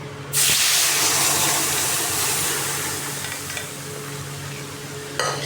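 Mung dal is poured into a hot tempering of green chili, bay leaf and cumin, setting off a sudden loud hissing burst that settles into a steady close sizzle, with a brief clatter near the end.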